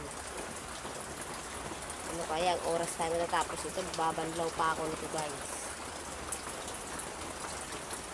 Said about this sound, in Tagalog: Kasi bigla na lang pumatak tong ulan.